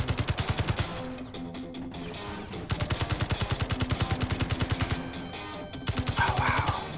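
Gunfire in the Escape from Mars video game: rapid, evenly spaced shots in long runs with brief pauses between them, loud and steady throughout.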